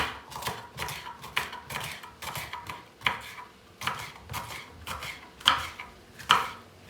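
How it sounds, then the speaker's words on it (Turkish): A knife chops a green capri pepper on a board while chicken sauté is prepared for cooking in a saç pan. Distinct, fairly loud cuts land roughly once per second, with no talking. "Ben hemen bu arada içerisine şöyle bir tane yeşil kapri biberim var. Onu doğramak istiyorum."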